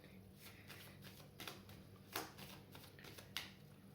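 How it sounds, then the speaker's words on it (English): Soft riffling and snapping of tarot cards being shuffled, a steady papery rustle with a few sharper flicks over low background hum. "So I'm going to shuffle."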